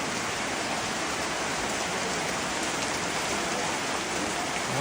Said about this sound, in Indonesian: hujan deras di Denpina ini